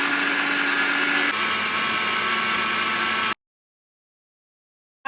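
Electric blender whirring steadily as it purées tomato gravy ingredients with ginger powder, shrimps and a little water, loud and continuous for about three seconds before cutting off abruptly into silence.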